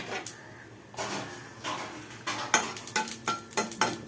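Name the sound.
whole cumin and bay leaf tempering in hot oil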